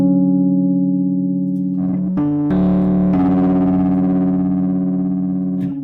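A sustained synth tone runs through a lo-fi distortion plugin, gritty and crunchy, with the timbre shifting as notes change partway through, loud and steady with no talking.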